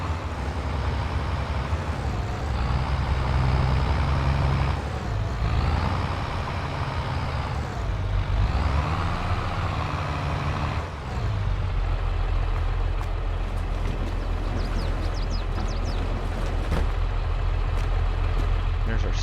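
Simulated 806 tractor engine in Farming Simulator 22, a steady loud low diesel drone that rises and falls in pitch as the throttle changes, running continuously throughout with no pauses.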